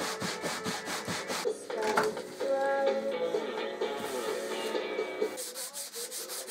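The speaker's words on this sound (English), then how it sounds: "made a few more light sanding adjustments to get it as good as I possibly could." Sandpaper rubs rhythmically along a salvaged oak electric guitar fretboard in light adjustment passes, a steady close scraping with repeated strokes, over a background hum.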